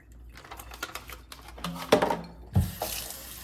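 Tap water runs over tofu in a kitchen sink while it is rinsed. Splashing and trickling are fairly quiet and uneven, with a louder burst of water near the end.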